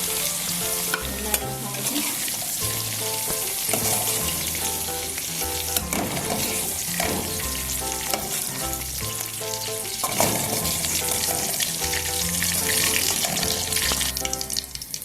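Okra sizzles steadily in a hot pan, broken by repeated stirring and scraping, with soft music playing underneath throughout.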